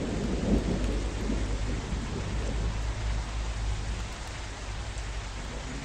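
Thunder rumbles low and continuous over steady rain during a storm in the trucking game Truckers of Europe, a heavy-load haul through bad weather, with no voices over it.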